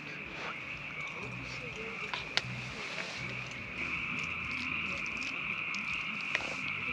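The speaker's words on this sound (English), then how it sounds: "Those crickets, or sorry, frogs, are so crazy." Frogs croaking at night near a desert town campsite, a dense continuous chorus with a steady high trill, faint and distant beneath people talking close by.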